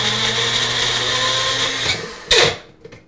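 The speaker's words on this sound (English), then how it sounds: "I'm going to puree my peaches over here in our handy dandy personal blender." A personal blender purees peaches with a loud steady whirring motor whine that runs for about two seconds, then sputters and cuts out with a short clatter before falling quiet.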